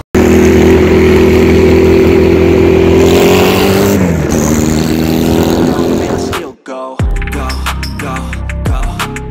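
A Benelli Patagonian Eagle 250 motorcycle with a stainless exhaust revs loudly with a deep, throaty, bassy note. It drops off abruptly and then gives way to music.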